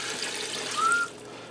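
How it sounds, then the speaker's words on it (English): Water pours in a quiet, thin trickle into a Ninja Speedi cooker over dry egg noodles, a short, soft splash with no talking. "I'm going to add in enough water to cover the egg noodles"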